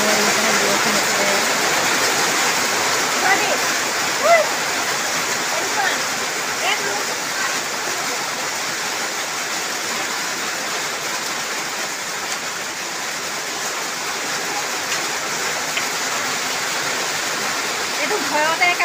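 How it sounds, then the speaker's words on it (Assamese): Heavy rain pouring down outdoors, a dense, steady roar of water that never lets up, with a voice talking faintly underneath. "এতিয়াহে দেখিছেনে বৰষুণ একেবাৰে।"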